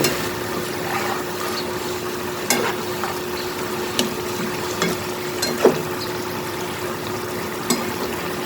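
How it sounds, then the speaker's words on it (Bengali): Katla fish curry cooks under a lid in a pan, with a soft, steady bubbling sizzle and a faint hum, broken by a few sharp clicks and taps, heard close with no talking. "এবার ঢাকনা দিয়ে ঢেকে কিছুক্ষণ রান্না করে নামিয়ে নিব।"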